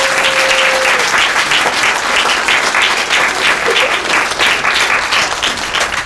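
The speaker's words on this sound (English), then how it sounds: "So can we give our students a round of applause?" Loud, sustained audience applause for students at a graduation, a dense crowd clapping close and continuously throughout, with a few cheers and voices in the mix.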